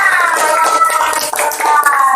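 A classroom of students clapping their hands together in a loud, close burst of rapid overlapping claps, with faint voices mixed in underneath.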